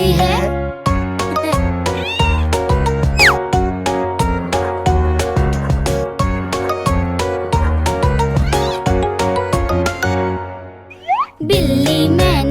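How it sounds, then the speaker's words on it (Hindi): Cartoon cat meows ring out over bouncy, upbeat Hindi-Urdu children's rhyme music with sung vocals, loud and continuous throughout. "बिल्ली मैंने पाली है, कान में इसके बाली है।"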